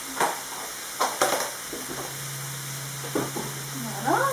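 Msemen filling frying and being stirred in a pan, with soft sizzling throughout and a few louder scraping stirs near the start and end, close and fairly quiet.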